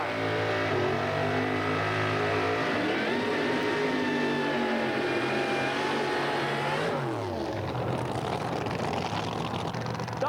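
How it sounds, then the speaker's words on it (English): Wild Bunch drag racing cars do burnouts at a 1987 drag strip, engines roaring loud and continuous close by, revs climbing and then shifting sharply partway through as the tires spin. "And here we go, it's burnout time."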